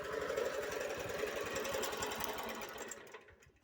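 A Chinese petrol walk-behind tractor idles through a quiet muffler, a steady close, rapid engine chug with a fast even beat, fading out at the end without talk.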